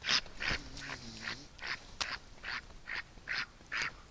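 A duck quacks repeatedly at night in freezing cold, roughly eight short nasal quacks in an uneven rhythm, fairly close but soft, with faint background noise.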